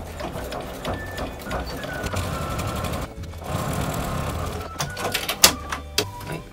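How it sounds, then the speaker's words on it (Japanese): A sewing machine runs a topstitch along a felt box pouch, a steady close mechanical chatter that briefly pauses midway, then resumes with a few sharper clicks toward the end. "ここに押さえのステッチを入れていきます。"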